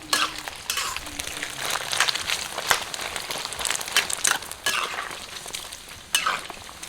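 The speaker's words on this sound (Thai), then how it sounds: "ผัดไปผัดมาเนี่ยน้ำมันเขาออกมาเพียบเลยนะครับ น้ำมันออกมาจากมันหมูเนี่ยแหละครับ" Pork fat stir-fried over high heat in a pan as it renders out its oil: a steady, close sizzle with irregular scraping stirs and occasional louder crackles, with no talking.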